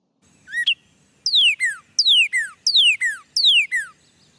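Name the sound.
robin singing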